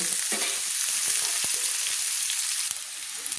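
Continuous loud sizzle of onions frying in oil, with scattered scraping clicks of a spoon stirring the pan, close up.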